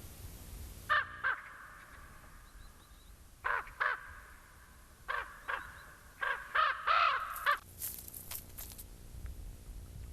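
Noisy crows and vultures caw in bursts while feeding at a carcass on the Mongolian steppe, the harsh calls fairly close and overlapping, with a scuffle of wingbeats toward the end.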